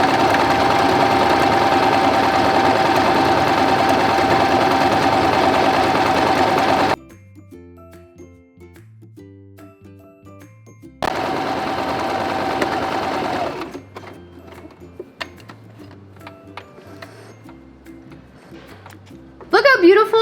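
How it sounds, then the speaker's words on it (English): A Brother E10 sewing machine runs an overlock stitch, whirring steadily forward for several seconds, pausing, then stitching in reverse and forward again in loud, continuous bursts. "we're gonna try a few stitches forward, and then we're gonna back stitch and come forward again"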